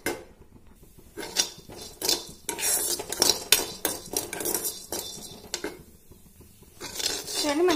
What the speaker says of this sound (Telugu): అదే బాండిలో మనం తీసుకున్న అందులో శనగపప్పు, తర్వాత మినపప్పు అయితే వేయించుకుందాము.